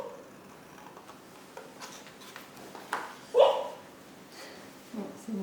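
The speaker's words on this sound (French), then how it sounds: "C'est mon chien qui est en train de rêver." A sleeping dog whimpers while dreaming indoors, giving a few soft, brief whines with one louder yelp-like whimper midway, over a quiet room during paper crafting.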